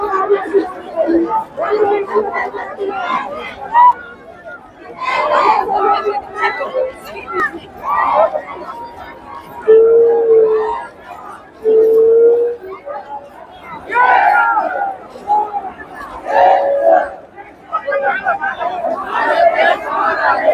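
Large crowd at an Adivasi protest march in Dhule, a dense outdoor babble of many voices with shouts rising and falling continuously and close talk mixed in throughout.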